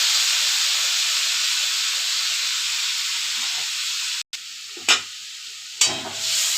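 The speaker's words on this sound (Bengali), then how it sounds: "নাড়াচাড়া করে ভালো করে কষিয়ে নেব" A vegetarian soybean and potato curry is stir-fried with spices, turmeric and a splash of spice water, giving a strong, hissing sizzle and then a brief break followed by a few sharp stirring scrapes.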